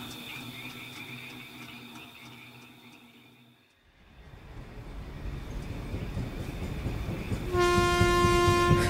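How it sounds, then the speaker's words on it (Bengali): A freight train passing at night, its rumble and rolling clatter building louder before a long, loud whistle blast at the end, set as a sound effect in a spoken story. "একটা ট্রেনের হুইসেলের শব্দে ঘুমটা ভাঙল"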